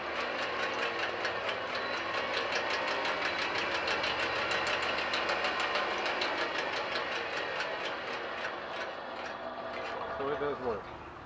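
A battery-powered roto-tiller converted to run on a forklift motor whirs and clatters with rapid mechanical ticking outdoors, steady and fairly faint, easing off near the end.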